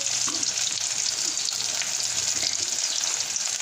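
Onion pieces, cut green chilies and curry leaves frying in a pan for fried rice, a loud steady sizzle close by with faint stirring scrapes and no voices.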